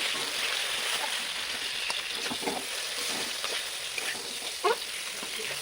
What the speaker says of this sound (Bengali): এবারে ভেটকি মাছের মাথাটা দিয়ে সাথে কষিয়ে নেব।